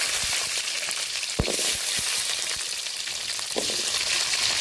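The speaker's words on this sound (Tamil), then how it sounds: "வெங்காயம், பூண்டு இதெல்லாம் போட்டு நல்லா வதக்கணும்" Onion and garlic sauté in a pan for a village-style dried fish curry, with a steady broadband sizzle throughout and a few sharp clinks from stirring.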